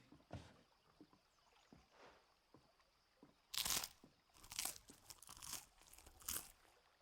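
Crunchy tavern bread being bitten and chewed in the video game Final Fantasy XVI: a few loud, sharp crunching bursts in the second half, over quiet ambient background and soft thuds.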